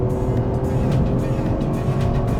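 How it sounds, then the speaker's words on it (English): A Toyota GR Yaris four-wheel-drive hatchback driven hard on a track, its engine roaring loud and steady at high revs with a constant rush of tyre and road noise. "This car chews tarmac like a rabid beast and is just phenomenally fast."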